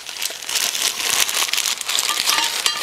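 Plastic packaging around Honda Rincon 680 engine parts being cut and torn open, a continuous close crinkling and crackling of plastic with no talking.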